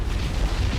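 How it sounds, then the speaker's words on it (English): Ship magazine explosion in the naval combat game War on the Sea, a brief deep rumbling boom with heavy low-end weight lasting under a second. "But we have some magazine explosion in action."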